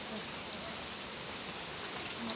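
Steady rain falls in a soft, even hiss that holds without a break through the whole short stretch, in hot weather.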